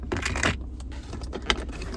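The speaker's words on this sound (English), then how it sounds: "Here's your key." A ring of keys for a 2015 Ford F150 SuperCrew Lariat pickup jangles close by with bright metallic clinks, in short irregular rattles over a steady low rumble.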